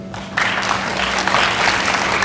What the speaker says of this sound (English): If you could just hold your applause till we're done